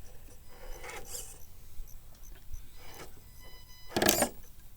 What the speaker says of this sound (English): you can hear the tires rubbing the body